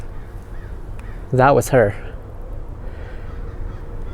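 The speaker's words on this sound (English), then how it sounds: "You guys can hear that there are crows in the background" Crows cawing outdoors near an aviary, two loud harsh caws in quick succession standing out over a quiet background, with a person speaking briefly in the clip.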